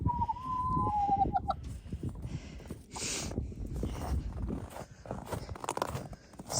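Chickens in snowy winter cold make scattered soft clucks and rustling, with a brief higher squawk near the start, close by and fairly quiet.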